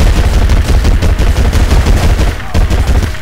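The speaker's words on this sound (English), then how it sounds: "that's a machine gun, quite an expensive machine gun, if I must say" Rapid machine gun fire in the video game Battlefield Heroes: loud, dense bursts of gunshots in quick rhythmic succession, nearly continuous, with a brief break near the end.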